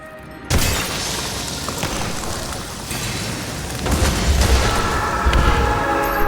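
Shootout gunfire in the video game Nobody Wants to Die, heard as a sudden loud boom followed by a sustained dense wash of blasts and rumbling reports that swells again toward the end.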